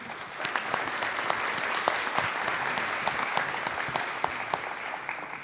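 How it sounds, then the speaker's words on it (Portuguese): Steady round of applause from the audience at a formal solemn session in São Paulo, dense clapping sustained evenly throughout with sharper individual claps standing out. "que peço uma salva de palmas."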